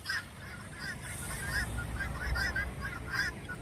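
Ducks for sale at a market in Beed calling nearby in a series of nasal honking quacks, repeated irregularly over a low, busy background.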